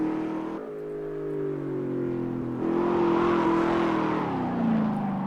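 A race car's engine holds steady in third gear through the first corner of a track lap, a loud continuous drone with pitch shifts, one sudden dip and a gradual rise, without any voice.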